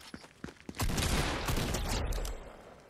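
Semi-automatic sniper rifle fire in Fortnite, a few faint sharp shots followed by a loud sustained rumbling burst of gunfire and explosion-like noise lasting over a second, with no speech.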